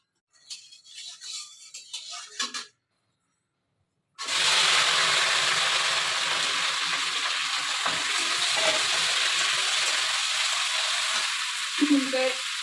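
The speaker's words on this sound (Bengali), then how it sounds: "এখানে ভেন্ডি ভাজা বসিয়ে দিলাম" Okra sizzling steadily in a hot pan for a home breakfast, a loud continuous frying hiss that starts after a brief stretch of quieter sounds and a short silence, with small pops and kitchen clatter near the end.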